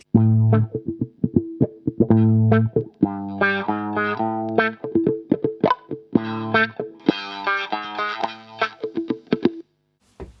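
Electric guitar played through a Carl Martin Ottawa AutoWah pedal: distorted single notes and chords with a sweeping, vocal-like tone, picked in short rhythmic bursts.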